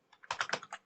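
Quick burst of keystrokes on a computer keyboard while entering a Linux terminal command, about eight close, crisp clicks in under a second, with no talking.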